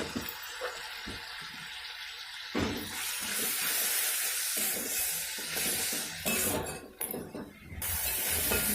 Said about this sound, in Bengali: এবার এর মধ্যে আমি অল্প একটু মশলা ধোয়া জলটা দিয়ে দিচ্ছি